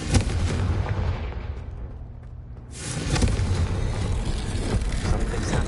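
A Confringo blasting spell in a Harry Potter video game, a loud rumbling burst that dips briefly and then erupts into a second heavy roaring blast, dense and close.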